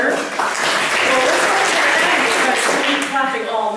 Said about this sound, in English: Clapping all night, and then you can clap for everyone.